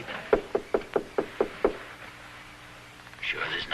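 Seven sharp, evenly spaced knocks on a house door ring out close and clear, followed by a pause and then faint talking.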